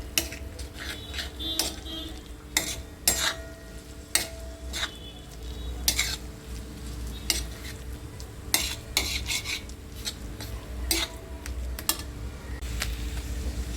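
Egg chutney gets stirred in a pan over lowered heat, with a spoon scraping and tapping the metal in repeated sharp strokes over a soft steady sizzle, close and moderately quiet, with no talk.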